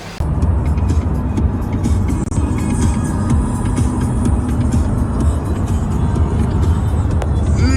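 Steady loud rumble of a car's engine and road noise from inside the vehicle during a road trip through Ukraine toward Odesa, continuous throughout with occasional faint clicks.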